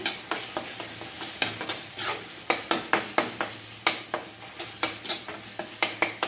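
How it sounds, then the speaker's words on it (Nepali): A spoon stirs fish curry spices in a hot pan, rhythmic scraping strokes clacking against the metal in a steady series over a soft sizzle. "अब यसमै राखिदिनु यो पनि र साथीहरू मजाले चलाउनु होला"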